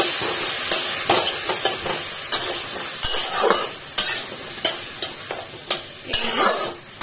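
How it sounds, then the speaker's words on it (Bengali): A spoon scrapes and clinks against a pan as turmeric and spices fry for chana masala, irregular stirring strokes over a soft, steady sizzle, close and fairly loud. "এবার আমি এটাকে ভালো মতো সব একসাথে মিক্স করে নাড়িয়ে দিই"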